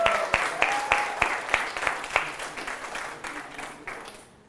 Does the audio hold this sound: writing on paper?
no